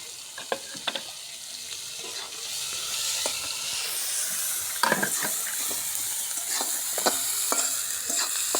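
Chopped onion and two bay leaves frying in hot oil, a constant bright sizzle and hiss with occasional sharp pops and crackles, close and fairly loud, no talking.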